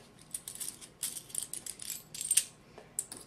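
Small metal fender washers are handled close by, giving faint scattered clinks and light metallic taps in quick irregular bursts.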